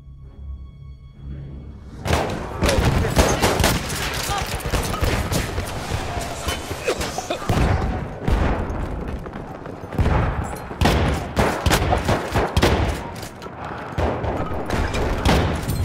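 Battlefield 1 combat rages with loud, dense gunfire: volleys of rifle and machine-gun shots and heavy booms roll on nearly nonstop after a brief quiet opening, with no talk.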